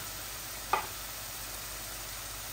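Chicken pieces are added to frying onions in a home kitchen pan, producing a steady, even sizzle. A single brief clink rings out near the start.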